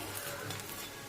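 An egg roll fries in a pan with a dense, continuous sizzle, steady and fairly close, with no other sounds breaking through.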